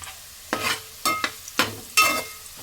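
Potatoes frying in a pan as they are stirred, four distinct scraping strokes over a soft sizzle, close by.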